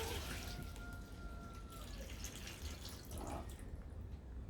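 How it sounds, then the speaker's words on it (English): Bilge pump pushing water out, a soft continuous splashing and trickling with small drips, fairly faint throughout. "As you can see, the bridge pump pumps the water out of there real fast"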